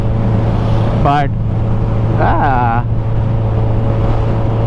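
A Ducati motorcycle engine drones loud and steady throughout, with a brief voice cutting in over the running motor.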